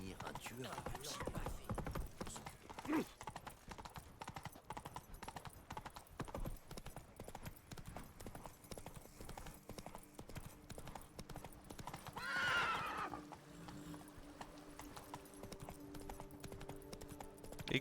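A horse's hooves clip-clop steadily through a long run in The Witcher 3, with a sharp whinny breaking out near the end amid game ambience.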